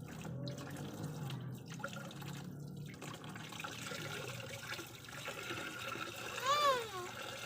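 Running water splashing and trickling into a container, with a voice and brief talk over it, and a high squeal near the end.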